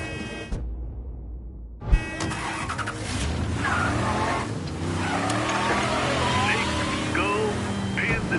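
A car in the video game Mafia III drives with a steady engine roar that rises and shifts, with brief tire squeal and faint voices over the continuous motor.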